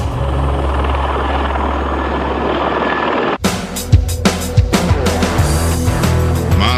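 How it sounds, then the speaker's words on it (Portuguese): A helicopter's steady rotor and engine roar fills the first half, then cuts to closer, choppier bursts of blade thumps and turbine whine, loud and without voices. "Mas no presente, o helicóptero continua sendo o senhor dos céus."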